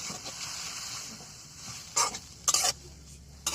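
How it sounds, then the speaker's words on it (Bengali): Ground spice paste fries in hot oil for a wild fish curry, giving a soft continuous sizzle broken by several sharp stirring scrapes of a utensil against the pan, with no voices. "আমাদের মশলাটা প্রথমে তেল দিয়ে ভেজে নিচ্ছি"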